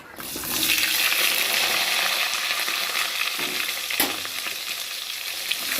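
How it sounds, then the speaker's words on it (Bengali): Diced potatoes sizzle with cumin seeds in hot oil in a pan, a steady close crackling frying sound that runs the whole time, with a few soft scrapes and no talking. "এবার কেটে রাখা আলুটাকে দিয়ে ভালো করে জিরের সাথে ভেজে নেব।"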